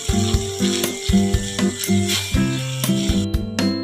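Onion and bell pepper frying over high heat in a pan, a loud, steady sizzle beneath a rhythmic clattering, mechanical ratcheting sound throughout.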